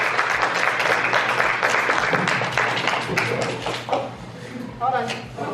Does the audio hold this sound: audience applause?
yes